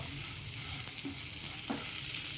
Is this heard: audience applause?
no